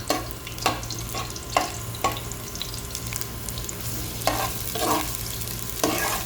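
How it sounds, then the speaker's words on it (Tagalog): Ginataang tuna frying in a pan as ginger is stirred in, a spoon scraping in several distinct strokes over a continuous close sizzle. "Haluhaluin na muna natin ng konti. Isama na rin natin dyan yung ating luya."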